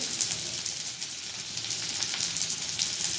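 Pabda fish with turnip and cabbage sizzling and frying in a pan, a steady close crackle and hiss with scattered pops throughout.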